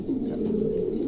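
A pair of pigeons at a pigeon market coo in a low, steady, throaty hum, close and continuous through a brief moment with no talk.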